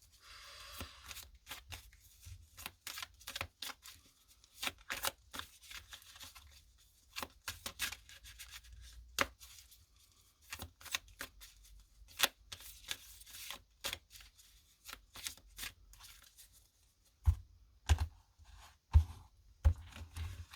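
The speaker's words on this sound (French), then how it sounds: "On va mettre les cartes du tarot." Tarot cards being shuffled, handled and laid out on a table make a close series of crisp flicks, slaps and soft rustles in irregular bursts, with no talking.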